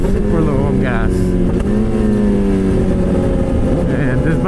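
A Suzuki GSXR 600 motorcycle engine runs steadily and loudly close by, with a shifting pitch as it rolls on and off the throttle and a strong constant drone throughout.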